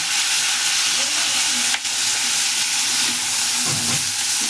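Chopped green chillies sizzle loudly in a hot pan for thecha, a dense continuous frying hiss that fills the scene, with faint stirring knocks near the end.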